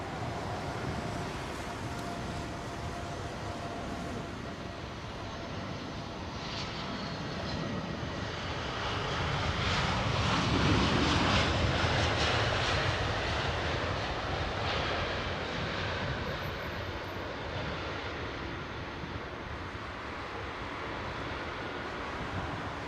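An airliner landing at London Heathrow Airport swells into a loud engine roar that peaks midway, then fades back to a steady rumble, with no voices.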